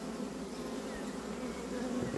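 A dense, steady hum of many honeybees buzzing up close inside a hive, a continuous droning swarm with no voices.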